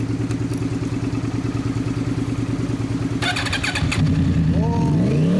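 A Yamaha YZF-R1 sport motorcycle with an Akrapovic exhaust idles with a deep, throbbing exhaust note, then gets a few quick revs near the end.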